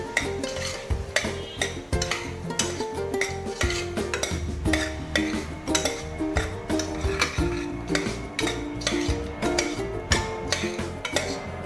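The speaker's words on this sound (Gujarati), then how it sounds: "ડુંગળી, સરસ રીતે એકવાર હલાવી દો." Onions stirred in a pan while making masala Maggi khichdi, a steady close scraping and clinking of the spoon against the metal pan with a light sizzle underneath, continuous and busy throughout.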